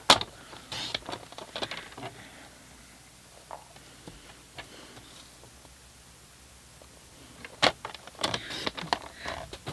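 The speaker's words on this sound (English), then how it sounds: "Grid paper is moving about there." Grid paper shifts and scrapes across a desk while a card is being made, producing soft intermittent rustles and light taps, quiet, with a few louder scuffs near the start and end.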